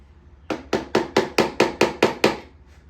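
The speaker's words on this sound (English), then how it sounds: "I'm gonna give it a few taps with the hammer here." A hammer taps a clamp onto the drum clutch of an Echo SRM 2620T trimmer, eight sharp, evenly spaced metallic knocks, close and clear with no talk.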